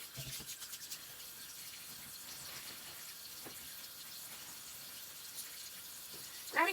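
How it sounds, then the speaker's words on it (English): Steady, soft rubbing and scrubbing with a wet sponge on metal oven plates in hot soapy water, continuous and close, with faint water sounds and no voices. "Then I'll just give it a good scrub to make sure if there's any loose stuff that it definitely comes off."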